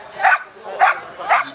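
Defence dog barking at an agricultural fair demonstration in Battice, three evenly spaced sharp barks, fairly close, with a faint background murmur and no speech.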